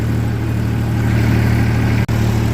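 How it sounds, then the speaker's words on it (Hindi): Farm tractor engine running steadily in a field while spreading fertilizer, a loud, close, continuous low drone with a brief dropout near the end. "जैसे इस पे देखो आवाज बदलता है ट्रैक्टर"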